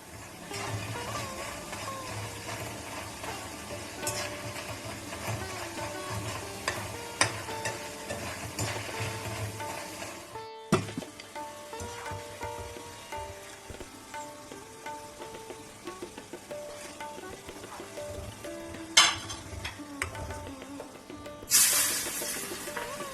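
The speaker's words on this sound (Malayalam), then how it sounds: "ഞാൻ നന്നായിട്ട് ചക്കപ്പേരിയൊക്കെ വറുത്തെടുക്കുന്നുണ്ടേ" Jackfruit chips frying in hot oil, a soft continuous sizzle with occasional stirring clinks, fairly quiet and close, with a brief break partway through and no talking.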